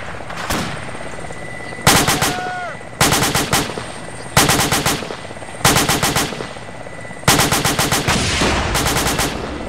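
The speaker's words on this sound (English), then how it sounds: "It is an enemy helicopter. Yeah, because it's shooting at us." An enemy helicopter in a military video game fires repeated loud bursts of machine-gun fire, each volley a rapid rattle, with a steady rotor hum underneath throughout.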